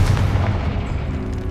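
A Confringo blasting spell in Hogwarts Legacy sets off a single deep, booming explosion that rumbles and fades over a second or so.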